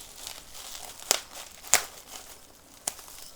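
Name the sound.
cutting a bubble mailer down the middle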